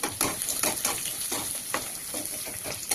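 Chopped onion stirred and fried in hot oil in a pan, a steady close sizzle broken by repeated scraping strokes of the stirring utensil at an irregular rhythm, with no talking.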